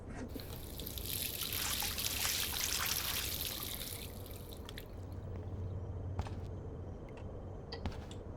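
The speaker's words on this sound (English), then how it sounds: "Last time I wanted to splash some water on my face." Water splashing and trickling at a bathroom sink in the video game Life Is Strange, a steady close running-water wash with brief drips and soft clicks toward the end, no voices.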